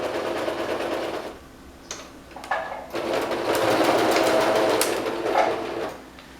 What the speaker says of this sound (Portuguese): Então nós costuramos por sobre a linha do molde.